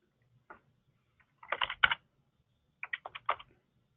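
A password is typed on a computer keyboard in two short bursts of quick key clicks, close and clear, separated by a brief quiet pause, with no speech.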